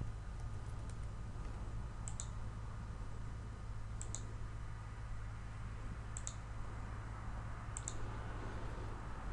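Computer mouse clicks while working in Revit software, four sharp, faint double clicks spaced about two seconds apart over a steady low hum, no talking.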